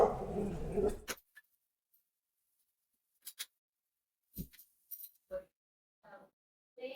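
A few short, sharp dog barks ring out, spaced apart over near silence after a brief burst of noise at the start.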